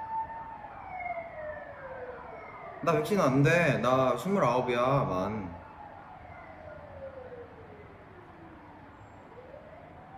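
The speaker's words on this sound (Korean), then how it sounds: "앰뷸런스 지나가네." An ambulance siren wails as it passes by outside, its rising and falling tone sweeping steadily and moderately distant, with people talking over it partway through.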